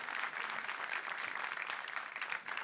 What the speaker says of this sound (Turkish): Bu alkışlar size.